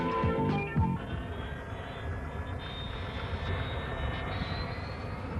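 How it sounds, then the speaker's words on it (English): A steady engine drone and whine from a Mi-8 helicopter fill the whole stretch, with a faint rising tone, loud and continuous nearby. "The Mi-8 helicopter, unimpressive at first glance."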